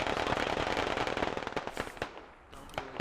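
Rapid gunfire from the military shooter game Squad Ops, with dense bursts of sharp cracking shots early on that thin into scattered, separate reports toward the end, fairly close, with no talk.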